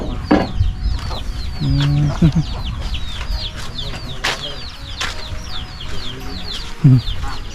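Chickens cluck repeatedly around a village in the middle of a forest, with short, uneven calls near and far, mixed with chirping birds and a faint voice.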